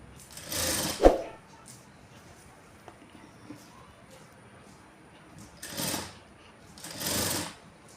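A sewing machine stitches a blouse in short separate bursts, a close whirring run at the start and two more near the end, with quiet gaps and a sharp click between.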